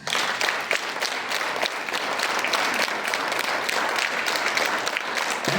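Students in a school drill clap together, producing a dense, steady wash of applause-like clapping that runs loud and continuous throughout, with no talk over it.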